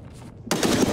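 Heavy close gunfire in the tactical shooter Escape From Tarkov erupts abruptly after a brief quiet moment, a loud burst of rapid shots filling the second half.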